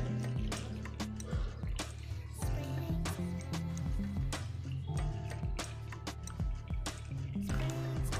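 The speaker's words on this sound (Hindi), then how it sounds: "और यहाँ पे हम लोग पानी डालना शुरू करते हैं।" Water from a 1 litre bottle poured into a small tub, faint splashing and glugging with irregular drips and bursts, close and quiet.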